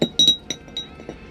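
Coins clinking inside a glass container, several quick bright metallic clinks in close succession, near and distinct, with no talking.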